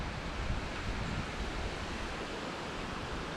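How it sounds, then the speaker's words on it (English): Steady roaring wind buffeting the microphone on a forested trail in Alabama, a dense, unbroken rush of noise with no voices. "I hope it's not going to be this windy tonight."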